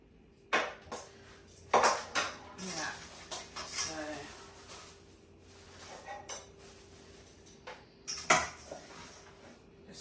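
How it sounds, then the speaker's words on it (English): Curry mixture for mutton browning in a pot while being stirred, with sharp clanks of a spoon against metal scattered over a low sizzle; a voice talks at times. "browning off the curry. Just mixing it."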